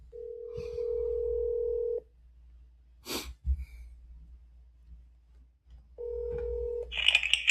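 A telephone ringback tone sounds in two long buzzing rings with silence between, joined by a short burst of dialing beeps at the end.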